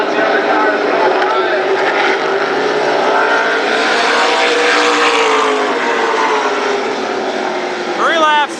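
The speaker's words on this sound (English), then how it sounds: "Slows her down, let's see other cars go by." Super sprint race cars roar past on the Berlin Raceway oval, a loud sustained engine whine that swells and fades as they go by, with an announcer talking over the noise.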